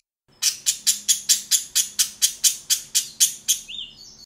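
Budgerigars in a large pet-shop cage chirp in a quick, regular series of about a dozen bright, loud tweets, close to the listener. A softer warble follows at the end.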